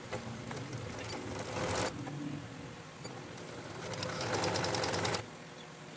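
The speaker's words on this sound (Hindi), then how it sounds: "यहाँ पर हम कट लगाएंगे और बाजू को हम स्टिच कर लेंगे" A sewing machine stitches the sleeve of an Iraqi namaz chadar, running in two steady whirring bursts separated by a quieter pause, close and with no talking.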